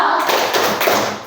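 A group of students in a classroom claps out a rhythmic thumb-clap cheer, a short, busy flurry of many hand taps close together.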